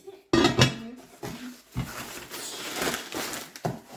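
Heavy cast-iron skillet and a lidded Dutch oven handled one after another, giving several loud close clanks and scrapes of metal on metal and hard surfaces at an uneven pace, with no talk.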